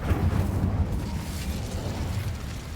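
A fire spell bursting in Hogwarts Legacy, a loud rumbling whoosh of flame that swells at the start and then roars on steadily.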